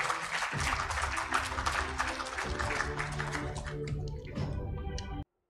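Clapping at an award ceremony honouring a social worker, a thick burst of applause that thins out and ends abruptly, with some background murmur beneath it.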